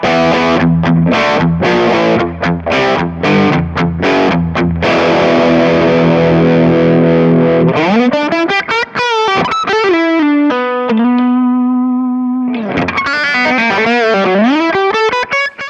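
Loud distorted electric guitar through a distortion effect on a Kemper Profiling Amp: chugging chopped chords first, then sustained bending lead notes ringing with heavy overdrive.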